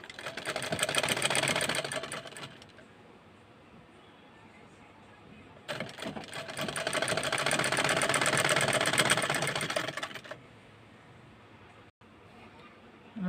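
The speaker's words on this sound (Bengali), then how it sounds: "আপনারা দেখুন, আমি আপনাদেরকে এখন সেলাই করে দেখাবো।" A sewing machine runs in two steady bursts while joining two pieces of fabric for a baby skirt, with a short pause between the runs and faint background sound in the quiet stretch.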